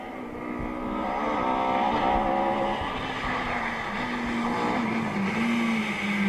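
A rally car, number 34, charges through a stage of the Argyll Rally in Dunoon. Its engine is loud and close, rising and falling in pitch as it shifts gears, heard on its own without talk.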